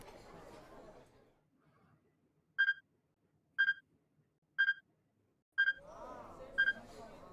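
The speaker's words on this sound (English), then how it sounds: "You heard the strange beeping sound again, subtly different than the first time." In the video game 428: Shibuya Scramble, a strange high electronic beep repeats five times at about one-second intervals, each short and bright, with faint murmuring voices before and after.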